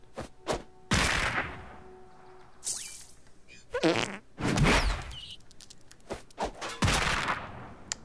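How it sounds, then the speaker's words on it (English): Time fart ability in South Park: The Fractured But Whole, a series of loud, comic fart blasts with bursty gunfire-like pops, several separate bursts spread over the stretch, with no talking. "Time fart allows you to catch fast moving creatures."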